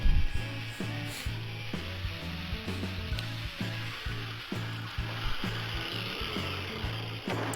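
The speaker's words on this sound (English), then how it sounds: "you want to remove as much material as possible with the cutoff wheel" An abrasive cutoff wheel grinds through leaf spring steel while roughing out a knife blank, giving a steady harsh hiss that runs the whole time beneath a rhythmic low thumping pattern.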